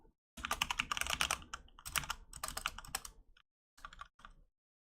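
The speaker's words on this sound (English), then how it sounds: "Okay, so I type in this password" Someone types a password on a computer keyboard while logging into Final Fantasy XI, producing quick clustered clicks in several bursts with short gaps, close up and with no talking.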